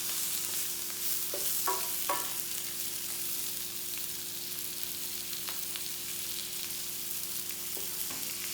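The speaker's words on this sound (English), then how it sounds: "Give this a quick stir." Garlic, mushroom and prosciutto sizzle softly in an instant pot while a utensil gives a few brief scrapes and knocks, then a steady frying hiss continues without talk.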